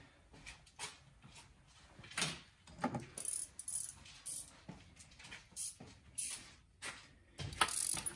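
Bolts being undone on the engine filter housing of a 2012 Mercedes CLS550, heard as a run of short metallic ratchet clicks and clanks spread across the stretch, close and fairly faint, with no talking.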